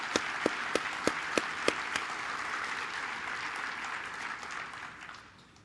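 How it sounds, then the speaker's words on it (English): A conference audience applauds its sponsors, a steady wash of clapping with a few sharp individual claps near the start, gradually fading away over several seconds. "please offer a good round of applause for all of our sponsors and everybody this morning"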